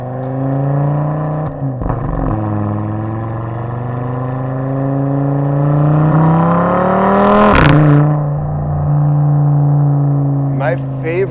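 A modified 2024 Audi RS3 with a five-cylinder engine, Grail exhaust and IE intake, tuned to 500 horsepower, revs in rising and falling sweeps with a sharp blip near the end, and someone talks over it.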